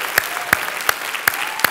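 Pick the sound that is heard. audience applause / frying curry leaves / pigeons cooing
audience applause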